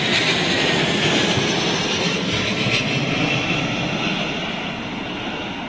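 Loud, continuous roar of an arriving aircraft on runway 27L at London Heathrow during Storm Ellen, a broad steady rumble with whooshing engine noise that fades slightly toward the end, no talking.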